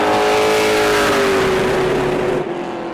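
A Pro Late Model race car engine during qualifying at New Smyrna, a loud sustained roar with a steady then slowly falling pitch as the car passes, fading slightly at the end.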